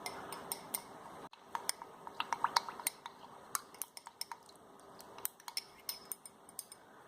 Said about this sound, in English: So I'm going to stir it until it's fully dissolved